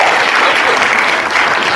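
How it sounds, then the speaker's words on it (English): Steady, loud applause from a small group fills the space on a podcast set, a dense continuous patter of clapping hands with no pauses across nearly two seconds. "Give myself a round of applause for that."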